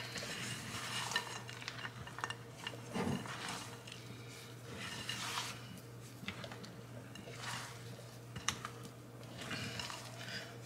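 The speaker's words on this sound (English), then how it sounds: "And just continue to mix it up well until everything is combined." Brownie batter being stirred in a bowl, with repeated soft scraping and clinking strokes of a utensil against the bowl, close up and steady over a low background hum.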